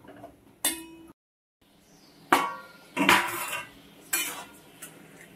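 A metal lid clanks onto a cooking pot of simmering Bengali mixed vegetables, with several sharp clinks and knocks spaced out over a few seconds and a brief silence between.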